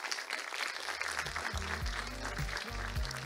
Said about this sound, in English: Please join me in welcoming again today in Charleroi with a big applause.